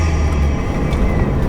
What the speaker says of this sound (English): It sounds like there's a speaker in here generating turbo noises.